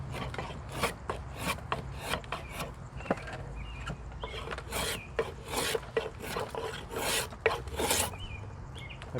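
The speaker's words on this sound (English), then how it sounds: "I've set this Spokeshave to take a very aggressive shaving." A spokeshave set for an aggressive cut shaves honey locust wood for a hatchet handle, a string of quick rasping strokes of irregular rhythm, close and crisp, with no talking.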